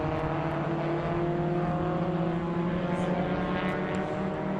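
A 1968 Alfa Romeo GTV race car rounds the Oak Tree turn at VIR during a vintage SVRA race, its engine a steady sustained drone with a slight pitch shift, continuous and moderately near, no speech.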